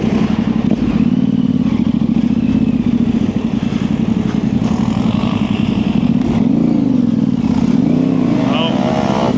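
A Yamaha Tenere 700 or dirt bike engine revs hard and steadily on Michigan single track during a wheelie, loud and close throughout, with a rider's voice rising over it.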